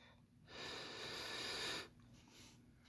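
A person breathes deeply in a breathing exercise, one long, steady, airy exhale or inhale lasting over a second, close and fairly loud, followed by quieter breath sounds.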